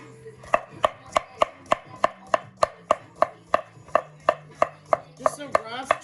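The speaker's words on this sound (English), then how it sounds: "So now I'm just cutting up the yuca." A knife chops yuca on a cutting board in a steady, evenly spaced run of about twenty crisp, close knocks, heard alone without talk.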